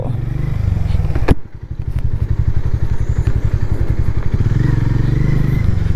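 A Harley-Davidson X440 motorcycle rides with a loud, close, pulsing single-cylinder exhaust thump, briefly dipping with a sharp knock as the rider shifts, then pulling hard again with steady throbbing beats and wind rush.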